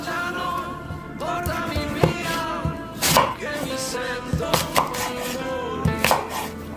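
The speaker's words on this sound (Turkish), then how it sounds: "Elmamı da doğruyorum." A knife chops through an apple on a board in several sharp, irregular cuts, close by, with music playing underneath.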